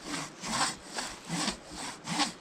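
Crosscut hand saw cutting through a fallen tree on a wilderness trail, a steady rhythmic back-and-forth rasp of about five strokes, close and fairly quiet.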